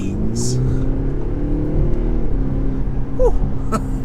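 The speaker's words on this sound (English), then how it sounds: "One thing I like about this engine as well is it revs out quite a lot." A 2021 Audi SQ5 diesel in sport mode pulls hard under full throttle, a steady low engine drone heard from inside the cabin with a brief excited voice over it.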